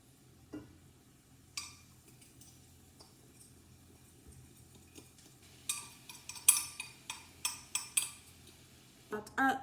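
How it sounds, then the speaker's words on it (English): A utensil scrapes and clatters against a pan while noodles, sauce and vegetables are tossed together, quiet at first and then growing into a run of sharp, rhythmic metallic knocks. "Now we're gonna add our noodles and our sauce, and we're gonna mix everything together"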